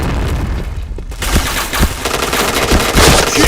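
Rapid automatic gunfire from the shooter video game Point Blank rattles loudly in dense bursts after a brief lull, up close and alone.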